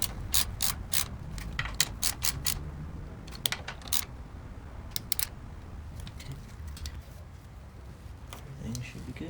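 A hand ratchet clicks in quick bursts while tightening bolts on a Kinetic HEX Dome air filter on a Harley Sportster, the close metallic ticks coming in short runs with pauses over a soft background rumble.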